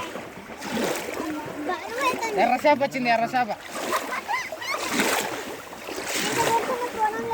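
Children learning to swim in Avuku reservoir kick and slap the water in steady, close splashing that runs throughout, while an adult calls out instructions over the noise.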